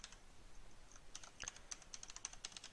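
Steady typing on a computer keyboard while setting up a character controller in Unity 5, a run of quick, close, crisp key clicks with a few irregular gaps and no talk.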